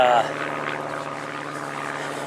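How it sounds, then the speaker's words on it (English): A propeller airplane passes overhead as a steady low droning hum, fairly loud and continuous, with a voice heard briefly at the start. "Wait till the plane passes here."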